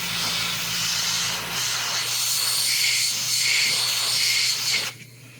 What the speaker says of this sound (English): So keeping the airbrush kind of just flowing smoothly.